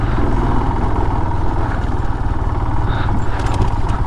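A motorcycle engine drones loud and close with a steady, rapid throb as it climbs uphill on a mountain road from Lachung toward Zero Point, with no voice.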